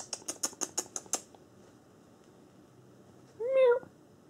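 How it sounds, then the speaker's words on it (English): A single short cat meow rises near the end, faint and close, after a rapid series of sharp tapping clicks like a bell or tag shaking. "Oh, I heard a kitty cat."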